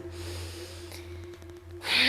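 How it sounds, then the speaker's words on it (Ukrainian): A sharp, forceful exhale through the nose during a morning pranayama yoga breathing exercise comes near the end, a loud close breathy burst after a quiet stretch with a steady low hum. "робимо різкий видих"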